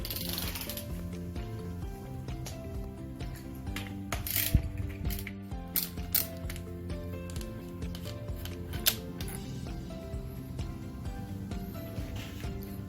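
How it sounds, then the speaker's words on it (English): A 24 mm socket on a ratchet loosens the air shaft bolt of a RockShox Revelation mountain bike fork, giving quiet clicking pawl ratchets and small metallic clinks and taps over about thirteen seconds, close and faint, with no talking. "So now with a 24 mil socket, you want to loosen your air shaft bolt."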